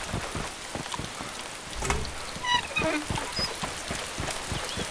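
Steady rain falls in the DayZ Standalone video game, a dense, even hiss across the whole stretch with a few brief brighter chirps and taps rising above it midway.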